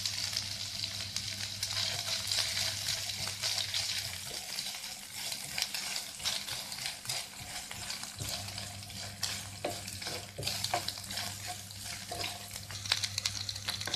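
Pieces of fresh coconut fry in two tablespoons of ghee in a pan, giving a steady crackling sizzle with occasional stirring clicks and scrapes. No voices are heard.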